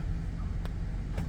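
A car engine idles steadily after a transmission install, a low rumble heard close and alone. Two faint clicks break in partway through.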